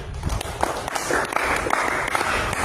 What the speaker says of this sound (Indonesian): Tepuk tangan dulu buat Tuhan kita.